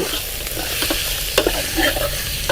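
Chicken fries with garlic in a pan, sizzling loudly up close while it is stirred, with occasional scraping clicks and no talking.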